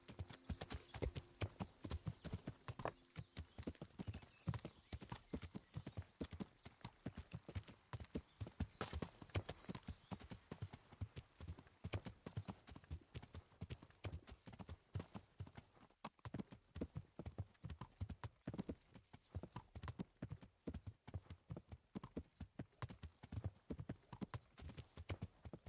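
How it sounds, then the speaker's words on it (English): Horse hooves clip-clop in a steady, continuous rhythm while riding in the Kingdom Come: Deliverance video game, close and quiet, with an occasional faint whinny. "we'll maybe just continue riding the horse ourselves"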